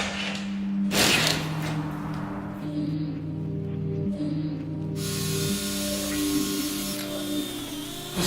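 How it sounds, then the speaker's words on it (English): A steel bar being TIG welded for a pit truck's custom suspension gives a steady, close hiss with an electric buzz that holds evenly throughout, its tone shifting partway through. "I'm probably gonna TIG weld everything because I'm out of practice"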